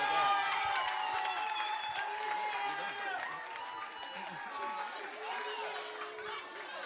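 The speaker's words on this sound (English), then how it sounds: "I'd just like to gather a round of applause" An audience claps for a graduating fifth grade class at a school moving-up ceremony, steady indoor applause and murmuring from the crowd, with a voice speaking over it.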